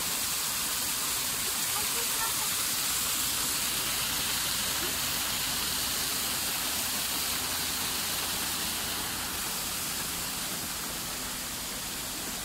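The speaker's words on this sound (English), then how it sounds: "see where the water comes out of the rock" Water pours steadily out of a rock into a pond that is pumped back uphill, making a close, continuous rushing hiss, with voices faint underneath.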